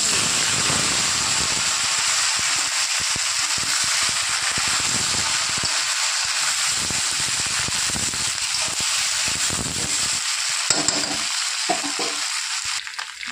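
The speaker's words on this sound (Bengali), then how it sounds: "ততক্ষণে আলু আর বেগুন একটু হালকা নুন আর হলুদ দিয়ে ভেজে নেব।" Sliced potatoes and eggplant frying in oil with light salt and turmeric, a steady loud sizzle that runs the whole time with occasional stirring clicks near the end, no talking.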